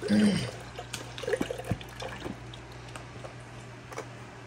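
Liquid is poured in a kitchen, starting with a brief splashing gush and then trailing into faint trickles and drips against a quiet background.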